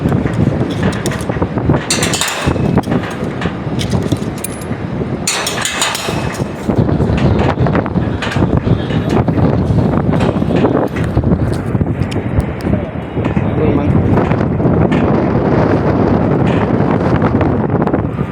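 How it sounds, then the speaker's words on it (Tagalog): Strong, steady wind roars and buffets the microphone throughout, high on scaffolding beneath a helipad, with rattling clatter and gusty bursts and no clear speech. "Malakas hangin"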